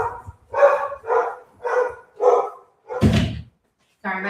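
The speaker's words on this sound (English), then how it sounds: "Sorry, my dog's losing her mind." A pet dog barks five times in a steady run, loud and close indoors, followed by a thud like a door and a brief spoken word at the end.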